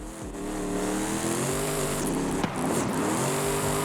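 A Cadillac CTS-V in Forza Horizon 5 drives with a loud, sustained engine roar, its pitch rising and falling as it revs and shifts, with a brief tire scrub midway.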